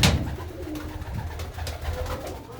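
Well-bred domestic pigeons in a keeper's loft coo in soft, low repeated calls, close by and fairly quiet, with no voices over them.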